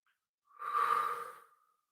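A single soft, slow exhaled breath during a yoga forward bend, close and quiet, rising and fading over about a second with no talking.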